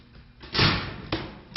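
An inward-opening door being forced with a forcible entry tool during firefighter training: a heavy, broadband shove and grinding strain, followed by two sharper thuds as the door is pried for more spread, close by with no talking.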